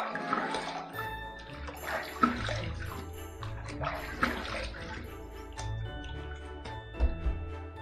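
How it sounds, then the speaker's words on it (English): Water running from a tap while rinsing after a wet shave, a steady continuous splash and trickle with occasional small knocks and clinks nearby. "let's go ahead and rinse."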